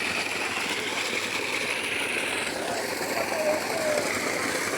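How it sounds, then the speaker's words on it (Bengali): Water gushes from a tube well during a boring wash as the motor pumps, a loud, steady, continuous rush that holds without pause, its texture shifting slightly midway. "বোরিং ওয়াশ হচ্ছে।"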